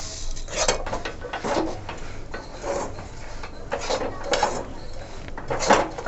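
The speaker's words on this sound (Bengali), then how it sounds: "ভেজে রাখা তিলগুলো দিয়ে আমি গুড়ের সাথে নেড়ে নেব" Roasted sesame seeds stirred into melted jaggery in a pan with cardamom for til naru, a continuous close scraping and clinking of a spoon against the pan in uneven strokes, no talk.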